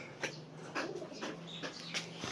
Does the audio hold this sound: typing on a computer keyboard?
no